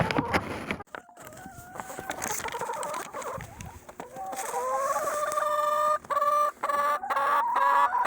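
Several chickens cluck and squawk nearby in short, overlapping calls, with a longer drawn-out cackle toward the end.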